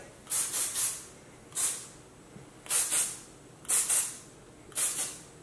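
Hairspray sprayed onto curled short hair: five sharp aerosol hisses, the first a quick double burst, each a short bright spray separated by brief pauses, close and clear against a quiet room.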